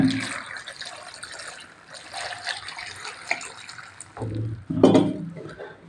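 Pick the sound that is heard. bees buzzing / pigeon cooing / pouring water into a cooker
pouring water into a cooker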